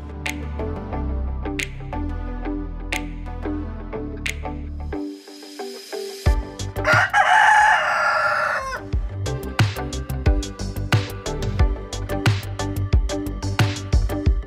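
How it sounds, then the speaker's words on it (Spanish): An ornamental-breed rooster crows loudly once in the middle of a poultry yard, a long strained call set against background music with steady beats and sustained tones. "En el lote 11 tenemos una pareja de raza andaluza en color splash, eh, es una gallina espigada"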